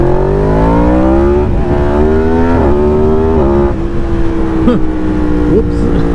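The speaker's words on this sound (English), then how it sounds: "This is the first ride of the Yamaha MT10 with the 170 horsepower tune." A Yamaha MT10 motorcycle with a 170 horsepower tune rides out on a road, its engine loud and close, revving up through several gears with rising whines and sharp shift drops, under steady wind noise.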